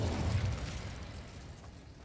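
A fire spell cast in the Hogwarts Legacy video game erupts in a low, rumbling whoosh that peaks early and then fades into a lingering crackle.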